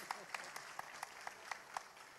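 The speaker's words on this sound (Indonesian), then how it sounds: "tepuk tangannya saya tengok ragu-ragu nih" A few people in an audience clap hesitantly and sparsely, roughly eight separate claps spaced about a quarter second apart, faint and thin against a quiet background.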